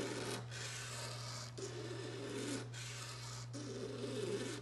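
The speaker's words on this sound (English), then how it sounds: "So there's the thickness of the binding is what I'm scraping." A razor blade scrapes the binding on a 1971 Gretsch guitar during a binding replacement, making faint, close, rasping strokes that repeat about four times in a steady back-and-forth rhythm.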